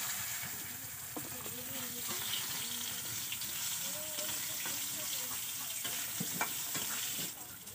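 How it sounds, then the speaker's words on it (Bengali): Potatoes frying in oil in a pan for a Bengali gourd and koi fish dish, a steady close sizzle with stirring clatter throughout, with faint voices in the background. "এখানে এবার আমি এই তেলে আলুগুলো ভেজে নেব লাল করে।"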